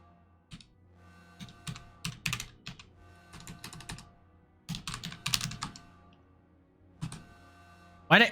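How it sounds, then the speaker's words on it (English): Close computer keyboard typing during a space-building game session, with quick irregular bursts of key clicks separated by short pauses, fairly quiet and alone, ending in a sharper clatter. "Why do I keep typing the same thing?"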